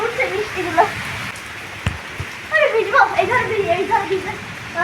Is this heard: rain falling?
yes